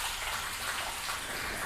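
Water flooding over a waxed car panel and sheeting off, a continuous loud hiss of running water with no pauses.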